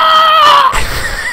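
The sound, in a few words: a man screaming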